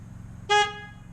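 Aftermarket Hella horns fitted to a Mazdaspeed3 give a single short, bright honk of about a fifth of a second, loud and close over a low idling hum.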